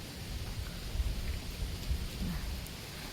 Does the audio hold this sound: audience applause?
no